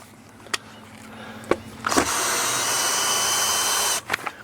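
A power drill backs two lag bolts out of the upper rafter of an awning arm on a Lippert electric awning. A few sharp clicks lead into a close, steady two-second whir, followed by more clicks.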